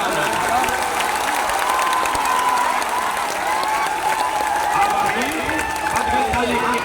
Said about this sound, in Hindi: अब ताली बजा लो भाई